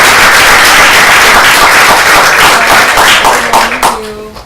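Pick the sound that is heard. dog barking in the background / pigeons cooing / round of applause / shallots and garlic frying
round of applause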